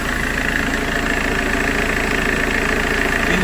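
A BMW E91 diesel car engine idles with a steady, even rumble and a continuous mechanical drone, loud and close, with no talking over it.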